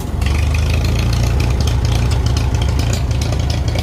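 A Farmall 450 diesel tractor engine, switched over to run on gasoline, idles with a loud, steady, low rumble and nobody speaking.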